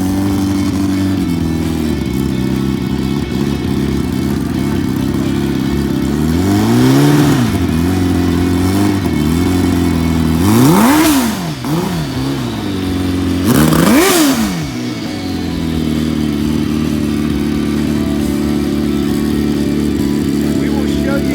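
A turbocharged funny bike drag motorcycle idles with a loud, rough steady drone, then revs up three times in sharp rising and falling bursts before settling back to idle; voices are heard faintly beneath the engine.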